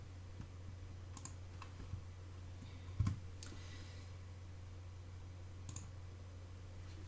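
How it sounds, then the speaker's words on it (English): A single key press on a computer keyboard makes a faint, sharp click in a quiet room with a low steady hum. A few softer clicks are scattered around it. "I push the A on my keyboard, so I go to the direct selection tool"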